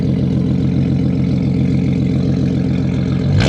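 Close and loud, a BMW E46 330ci through a straight-through 3-inch exhaust holds a deep, rumbling idle with a pulsing beat, ending in a sudden rise, with no voices over it.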